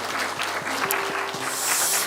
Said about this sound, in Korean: 우리 간증 나눔 해주신 두 분께 한번 큰 박수로 격려해 주십시오.